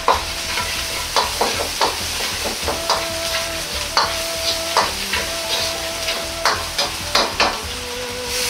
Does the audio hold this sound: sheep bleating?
no